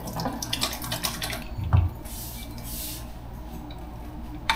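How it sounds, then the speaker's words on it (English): Hands being washed under a running kitchen tap before making sushi rolls, a steady close rush of water with a brief splashier moment midway. "Let's wash our hands very lightly."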